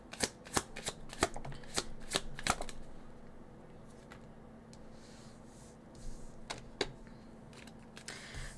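A deck of tarot cards being shuffled in quick crisp riffling bursts, several rapid snaps in the first few seconds, a pause, then a few more shuffles near the end, close and quiet.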